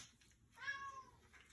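A house cat gives one short, faint meow indoors in a kitchen, a single rising-and-falling cry against quiet room noise.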